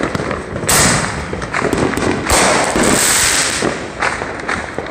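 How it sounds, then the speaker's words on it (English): Artillery shell fireworks bursting at a family Fourth of July backyard celebration, with several loud crackling explosions close by, each burst trailing into fizzing crackle and a steady hiss between blasts. "lighting artillery shells"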